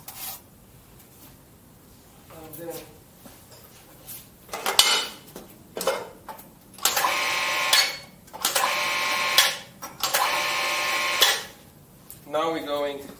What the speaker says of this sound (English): now I'm going to put here in a swage.